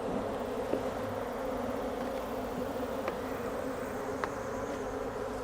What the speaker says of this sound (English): I think a lot of these bees are robbers.